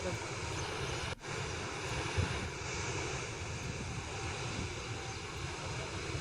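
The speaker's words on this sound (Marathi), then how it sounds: "धबधबा ओसंडून वाहतोय" Constant heavy roar of an overflowing waterfall after heavy rain in Beed, dense and unbroken, with a brief dropout early on; no voices.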